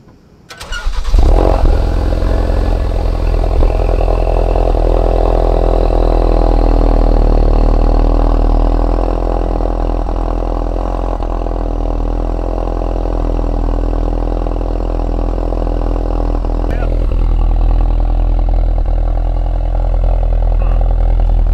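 A Ford Focus RS engine with an open exhaust valve cranks and roars to life abruptly, then settles into a loud, deep, steady idle with a throaty, rumbling exhaust that continues for a long stretch.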